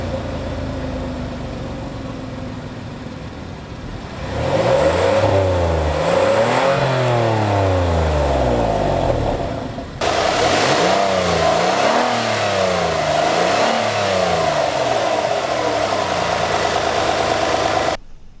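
A 2017 Kia Sorento's naturally aspirated 3.3-liter V6 engine idles, then is revved repeatedly in rising and falling sweeps, close and loud, with a brief pause before more revving.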